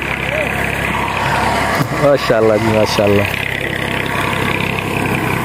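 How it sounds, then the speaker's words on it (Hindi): A tractor being fitted with a blade rumbles steadily in a Pakistani village, a constant low engine drone close by, while someone talks over it. "और सामने लगा हुआ है जी ट्रैक्टर, ब्लेड वगैरह लगा रहा है"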